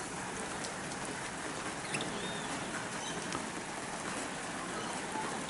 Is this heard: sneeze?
no